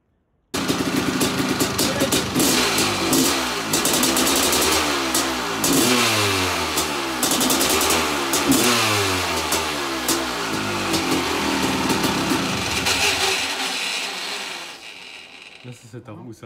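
A Honda CR500 two-stroke dirt bike engine, opened up for work, starts and is revved repeatedly: loud, close, rising and falling snarls over a rough idle, then cuts off near the end.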